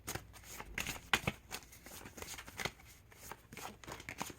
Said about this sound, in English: I know sometimes it helps just to see like the cards being shuffled